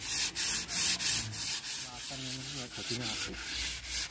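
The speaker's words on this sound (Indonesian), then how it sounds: "diamplas lor ya pakai amplas air yang diberi sedikit air ya agar tidak kasar" Repeated rhythmic rubbing strokes of wet waterproof sandpaper on a wooden cabinet, slightly wet and gritty, close up with short pauses between passes.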